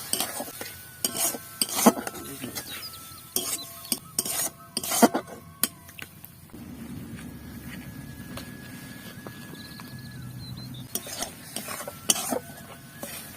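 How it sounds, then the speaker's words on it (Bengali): A spoon scrapes and knocks against a pan as yogurt and potato curry is stirred over low heat. Irregular metallic clacks and scrapes come in bursts, with a soft simmering hiss during a brief pause. "তিন থেকে চার মিনিট ভালোভাবে নেড়েচেড়ে নিতে হবে"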